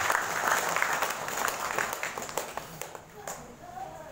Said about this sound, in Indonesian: Tepuk tangan untuk Mas Wislo Sigit.